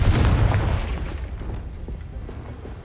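A loud, deep explosion from the Confringo fire spell in the video game Hogwarts Legacy booms up front, then rumbles and fades over a few seconds.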